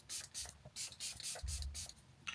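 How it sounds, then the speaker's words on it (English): Several short bursts of Dalba face mist spray hiss in quick succession, close and soft, each a brief airy spritz with small gaps between. "I'm using my Dalba spray."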